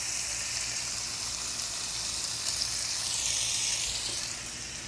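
Thick-cut pork chops topped with pepper jack cheese sizzle steadily on a Ninja Woodfire Pro XL outdoor grill, a close, continuous hiss that stays even throughout with no talking.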